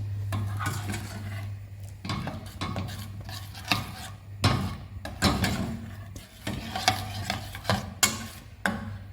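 A spoon stirs groundnut soup sauce in a pot, giving repeated scraping and knocking strokes in an uneven rhythm, close and fairly loud over a steady low hum.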